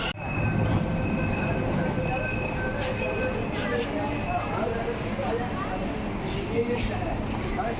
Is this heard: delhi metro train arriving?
yes